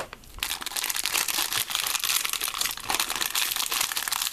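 Plastic packaging crinkles and crackles loudly and continuously as it is cut open with scissors and handled up close, with steady dense rustling and no talk.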